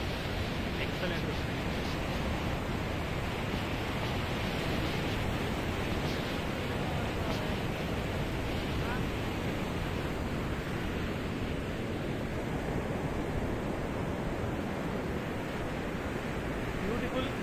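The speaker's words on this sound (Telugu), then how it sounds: "ఇదే మన కరాన్ బీచ్" Steady broadband wash of surf at Karon Beach in Thailand, a constant roar of waves with some wind, close and even throughout without distinct breaks.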